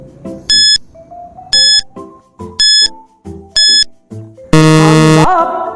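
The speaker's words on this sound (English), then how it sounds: "Timer starts now." A quiz countdown timer in a grade 4 science lesson, four short evenly spaced electronic beeps rising in pitch, then a long loud final buzz, with no talking.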